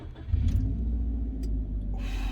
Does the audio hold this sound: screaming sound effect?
no